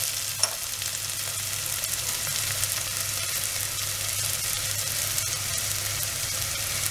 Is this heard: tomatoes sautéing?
yes